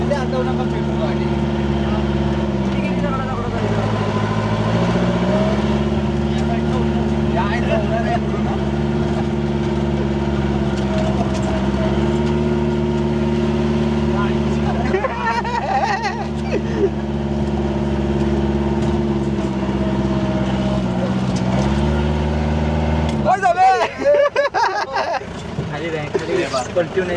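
A Mahindra Willys Jeep engine drones steadily while driving offroad, with brief dips and surges in revs, loud and close throughout, ending in a rougher burst of noise.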